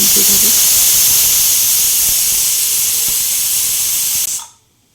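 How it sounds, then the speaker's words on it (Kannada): A pressure cooker holding avarekalu (hyacinth bean) sambar whistles with a loud, close, steady hiss of escaping steam that holds for about four seconds, then cuts off abruptly into silence. "2 ವಿಷಲ್ ಕೂಗಿಸ್ಕೊಳ್ಳಿ."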